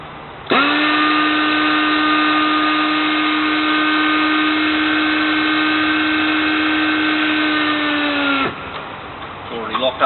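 A pneumatic impact gun, set to 1,030 foot-pounds, tightens a nut onto a large stud with a loud, steady, high-pitched whine lasting about eight seconds, then stops abruptly, leaving brief handling clatter.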